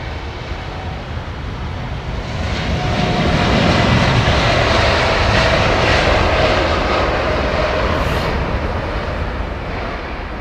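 Jet engines of an Icelandair airliner in the old livery rumble and whine at Heathrow, a broad, steady roar that swells in the middle and holds, loud and fairly near, with no talking over it.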